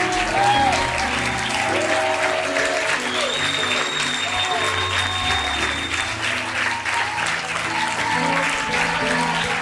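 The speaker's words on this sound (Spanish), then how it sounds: "Aplauda al Rey de Gloria, apláudelo," A church congregation applauds steadily and loudly throughout, a dense wash of clapping with some voices mixed in underneath.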